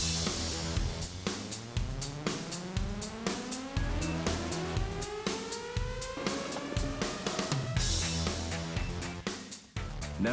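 Car tires rolling on a Michelin test machine in a sound-treated room make a loud, steady whine, with tones sweeping upward and repeated sharp ticks over a continuous roar.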